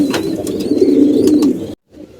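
Racer and homer pigeons coo steadily up close, a low throaty burbling with a few sharper chirps, then it cuts off abruptly into near silence.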